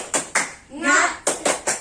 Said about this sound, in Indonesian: Sekali lagi ya, tepuk semangatnya.